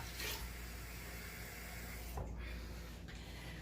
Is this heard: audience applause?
no